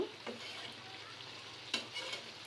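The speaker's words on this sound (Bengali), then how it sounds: "ভালো করে একটু কষিয়ে নিব।" Rohu fish curry with tender bottle gourd being sautéed in a pan, giving a low, steady sizzle with brief scraping stirs of a spoon, close by and fairly quiet.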